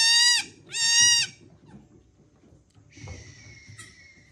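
A newborn, hornless gold baby goat bleats twice, loud and close with a wavering tone, then gives a fainter, higher bleat after a short pause, with no one talking.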